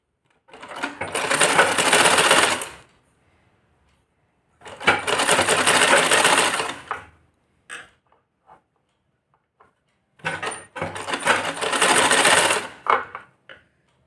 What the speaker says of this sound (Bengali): এটাকে আস্তে আস্তে অল্প অল্প করে সেলাই করে এটাকে স্টিচ করতে হবে